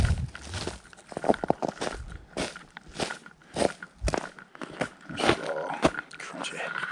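Footsteps crunch through old unmelted snow on a shaded hiking trail along former ATV ruts, a steady close walking rhythm of crisp crunches with a voice speaking briefly over them.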